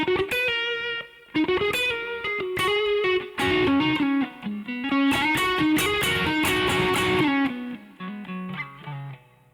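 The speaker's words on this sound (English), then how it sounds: "see how you can kind of alter the amount of distortion?" A crunchy, overdriven electric guitar through a tube amp plays a riff of bent notes and chords, sustaining between short pauses, loud and close.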